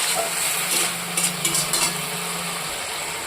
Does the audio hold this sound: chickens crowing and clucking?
no